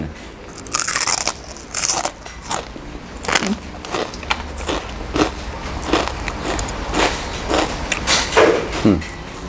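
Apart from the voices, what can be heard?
biting crunchy pork cracklings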